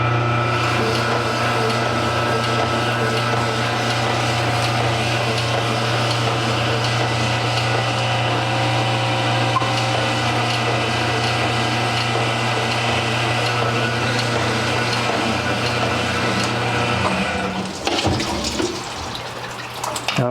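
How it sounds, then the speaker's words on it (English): A cylinder hone with an abrasive stone works inside a GM 5.3 engine cylinder during an overhaul, a loud, steady whirring grind holding its pitch for many seconds before stopping abruptly. "we'll watch this cylinder hone"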